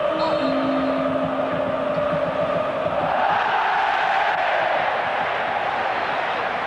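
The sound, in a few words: football stadium crowd cheering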